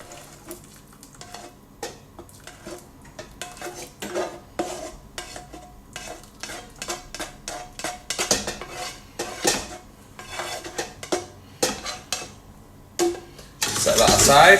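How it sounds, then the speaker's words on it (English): Beef and vegetable mixture for a cottage pie is tipped into a pan and stirred, with repeated scraping and clanking of a utensil against the pan, a soft sizzle underneath, and a louder rush of pouring near the end. "I'm going to tip that into the beef and vegetable mixture"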